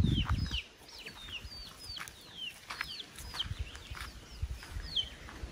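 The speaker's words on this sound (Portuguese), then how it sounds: "Ali tem um monte de pintinho." Chickens and chicks on a rural farm smallholding in Pará, Brazil, give soft clucks and high, repeated chirps throughout, with a low rustle at the start, close by and outdoors.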